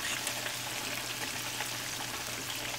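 Chicken pieces frying in hot oil in a pot give a steady, even sizzle with a soft crackle throughout, fairly quiet and close, with no talking.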